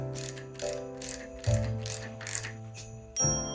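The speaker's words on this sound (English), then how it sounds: "Grab your set tool again, and ratchet this bad Larry back in." A ratchet tightens a bicycle suspension fork cap using a set tool, producing quick bursts of close, crisp clicking separated by brief pauses, with no talking.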